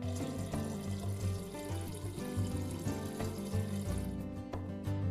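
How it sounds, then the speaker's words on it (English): A refrigerator water dispenser pours water into a measuring cup, with a steady trickling flow over a low humming drone that runs throughout. No one speaks. "Press and release the water dispenser paddle as needed to dispense water to the one cup fill line."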